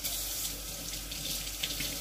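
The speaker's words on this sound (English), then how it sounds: "so let me rinse my hands" Gloved hands are rinsed under a running kitchen faucet, a steady close splash of tap water lasting a couple of seconds with no talking.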